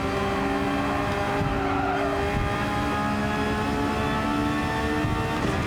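A racing video game car's engine drones steadily as its tires skid and squeal, forming one continuous loud layer of motor hum and screeching rubber throughout, with no talking.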